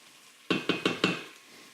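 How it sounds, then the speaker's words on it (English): Garlic and onions sautéing in an Instant Pot: four sharp stirring scrapes and sizzling bursts at an even pace over a low hiss, close and moderately loud, with no talking. "so now I'll just throw the garlic in. Let it saute for a bit."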